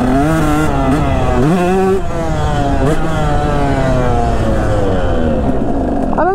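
A KTM 125 two-stroke dirt bike engine revs hard and close, its pitch rising and dipping with throttle blips before settling into a long, sustained high-revving drone.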